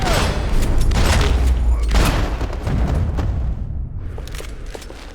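Heavy gunfire and booming impacts in the video game Max Payne 3: several loud, close shots and thuds in the first few seconds, fading to quieter rumbling at the end.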